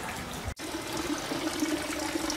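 Steady water running and trickling in an old public washhouse, a continuous close flow with one brief dropout near the start.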